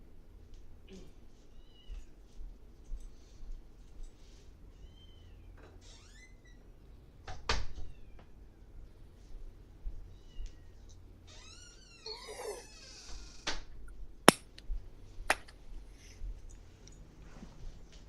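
Several kittens meow in short, high-pitched bursts, scattered across the clip, with a few louder cries and occasional clunks, people talking faintly in the background.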